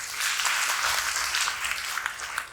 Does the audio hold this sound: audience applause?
yes